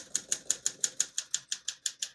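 Typing on a 1958 Olympia SM3 portable typewriter: about a dozen crisp key strikes land in a steady, even rhythm, each a sharp metallic clack with a brief decay, close and clean with no talk.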